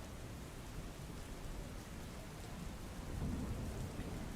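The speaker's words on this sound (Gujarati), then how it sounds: "વહેલી સવારથી સતત વલસાડ શહેર અને ગ્રામ્ય વિસ્તારમાં વરસાદ પડી રહ્યો છે" Heavy rain pours down on Valsad in a steady, dense hiss with a low rumble underneath, growing slightly louder toward the end.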